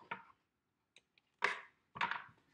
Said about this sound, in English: I'm going to give that a stir